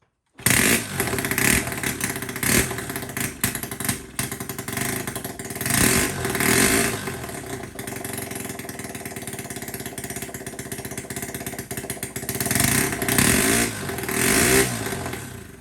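A 140cc Piranha pit bike engine, recently fixed for low compression, fires up and runs with loud, close revving that rises and falls in several bursts over a rough idle.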